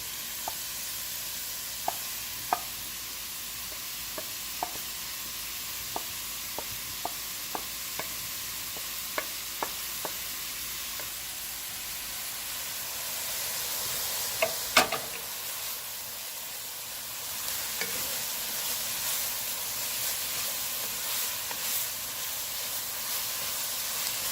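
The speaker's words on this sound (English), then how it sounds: "next is I'm adding the mushroom. I'm using actually half of it to saute it" Mushrooms sauté in a pan with a broad, steady sizzle and hiss that runs throughout, broken by light, irregular spoon taps and one louder scrape partway through.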